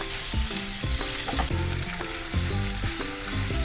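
Onion and tomato frying on high heat in a kadhai for kadhai paneer, a steady loud sizzle with repeated stirring scrapes and clinks running through the whole stretch, no voices.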